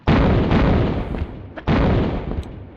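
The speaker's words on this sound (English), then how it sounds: "He broke away, and he's going to start firing at me." Enemy gunfire in the Tomb Raider 1 video game, Tomb of Tihocan level: two loud sustained bursts of rapid shots, the second following a brief gap, with no talk over them.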